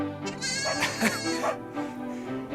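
Sheep and newborn lambs bleat close by in a flock, several wavering, overlapping cries rising and falling over a steady low murmur.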